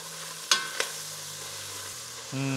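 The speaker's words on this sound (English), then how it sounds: "throw in some ginger and spend about a minute sauteing it in the butter" Ginger sautéing in butter with a low, even sizzle, broken by two quick clacks of a utensil early on and a faint hum toward the end.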